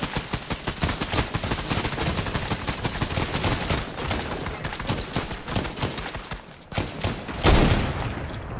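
Enemy gunfire in a video game, dense rapid bursts of shots rattling almost nonstop, loud and close, with a brief lull before a sharp final burst.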